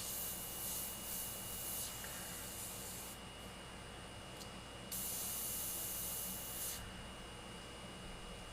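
An airbrush sprays paint onto a skull artwork in a steady, close, soft hiss, cutting off and resuming in a few bursts with no talking over it.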